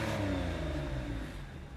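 A Porsche 911 997.1 Carrera 4S Tiptronic, flat-six engine revving in neutral while the car rolls, its steady engine note slowly falling in pitch as it eases off.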